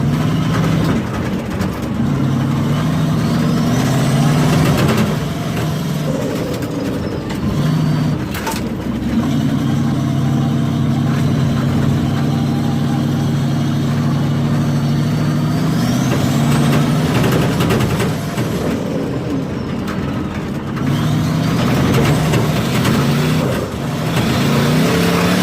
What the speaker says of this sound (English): Maybe we should do some drifting.